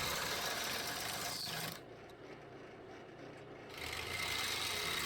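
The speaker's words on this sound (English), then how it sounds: "my 1/2 inch spindle gouge, which I'm using to get this blank round" A half-inch spindle gouge cuts a soft poplar bowl blank spinning on a wood lathe, a loud steady hissing rasp that drops away for about two seconds in the middle before resuming.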